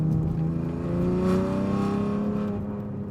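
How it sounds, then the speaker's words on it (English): BMW F80 M3 with Bootmod3 tune, loud exhaust note holding steady then easing off throttle into crackling burbles, continuous and close for about three seconds. "it definitely seems to focus more on the engine, more on the exhaust sound, letting off the throttle"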